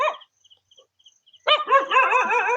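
A dog barks in a quick run of sharp, yelping barks after a faint chirp or two, fairly close and loud, with no talk over it.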